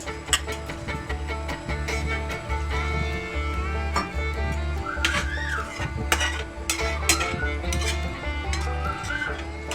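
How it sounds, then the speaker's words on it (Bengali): A spoon stirs and scrapes spice masala in a pan for oil-free egg curry, with repeated metallic clinks and scraping strokes over a steady low hum and faint sizzling. "অল্প অল্প করে কষতে হবে এবং একটু একটু করে এখানে জল ব্যবহার করতে হবে।"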